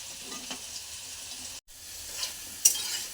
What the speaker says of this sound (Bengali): আলুটা লাল লাল করে ভাজা হয়ে গেছে, এবারে তুলে নেব।